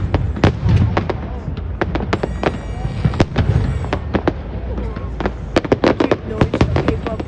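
New Year's fireworks burst over New Orleans in a dense, uneven barrage of sharp cracks and booms, some near and loud, others softer and distant, with people talking underneath.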